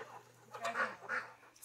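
Waterfowl calls, likely a goose, from birds by water at a farm-like spot in Bananal, São Paulo, with a hen nearby; a few moderate honking squawks come in short bursts at a middle distance.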